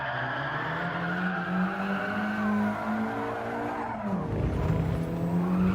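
A race car in Gran Turismo 7 skids through a handbrake turn, its engine droning steadily under sustained tire squeal, then a sudden pitch drop as the car slides before the engine picks back up.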